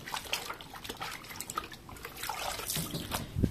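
Water splashes and drips as a huipil garment from the Isthmus is soaked, with faint, uneven trickling and small splashes close by and no talking.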